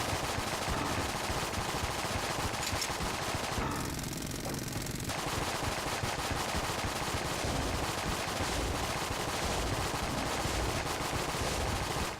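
Rapid gunfire from the video game Enter the Gungeon, a dense continuous stream of shots with a brief thinning near the middle, loud and without speech.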